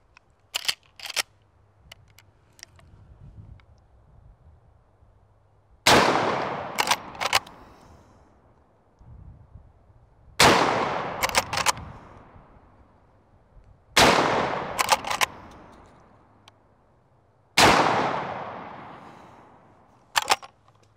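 Loud rifle shots from a Marlin 1894 lever-action at a shooting range, four or five sharp reports spaced several seconds apart, each with a long decaying echo, and smaller clicks and clacks of the lever action between them, with no talking.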